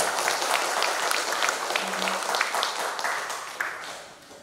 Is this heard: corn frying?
no